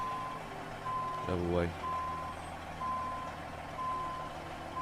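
A truck in the American Truck Simulator game backs up with steady, evenly spaced reversing beeps over a low engine hum, and someone briefly speaks over it.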